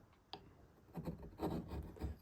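A sharp chisel or knife scrapes and shaves a wooden chess piece during hand carving, a quiet tick followed by several short, rough rasping strokes close by.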